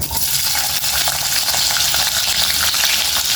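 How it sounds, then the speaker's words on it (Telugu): Onions tossed into hot oil with mustard seeds for a taro (chamagadda) curry, producing a loud, dense, continuous sizzle with scattered crackles, close up and without voices. "ఆయిల్ వేడైంది ఆవాలు వేసుకున్నాం కదండి ఉల్లిపాయలు వేసేసుకుందాం"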